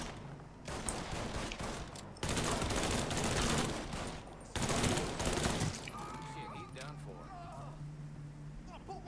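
Gunfire in the video game Mafia III, loud rapid bursts of automatic fire in several volleys, followed by quieter ambience and someone talking.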